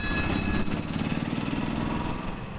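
A small V8 in a retired fire engine idles steadily, a low rumbling pulse that is close and loud with no talk over it.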